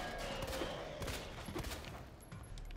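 Rapid gunfire in Resident Evil 2 Remake, several sharp shots in quick succession over a dense, noisy game soundscape at low level.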